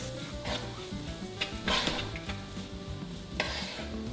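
Chicken stew gravy cooking down in a hot pot, a soft bubbling sizzle under occasional spoon scrapes and clanks against the pot, close and moderate.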